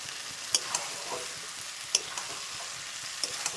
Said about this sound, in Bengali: এবার সব কিছু ভালো করে মাখিয়ে নিতে হবে